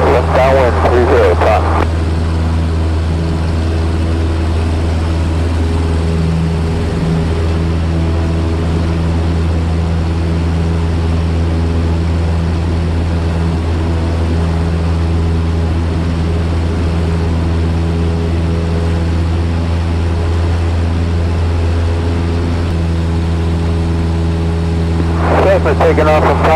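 A small single-engine propeller airplane accelerates down the runway for takeoff at Taunton, its loud, steady engine drone constant throughout from inside the cabin, with a pilot's voice over the noise.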